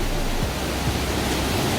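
Bidulginang waterfall pours between rocks in a basalt gorge as a loud, dense, unbroken rush of falling water that fills the whole clip, with no speech.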